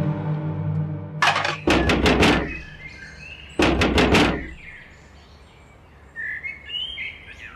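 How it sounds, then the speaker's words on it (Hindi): Someone pounds on a door indoors, two loud bursts of rapid heavy knocks a couple of seconds apart, followed by quieter room tone with faint bird chirps near the end. "क्यों दरवाजा पीट रहे हो?"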